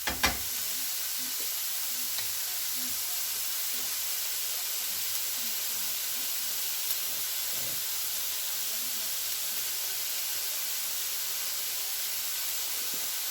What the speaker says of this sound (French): Pendant que vos oignons et vos lardons sont en train de caraméliser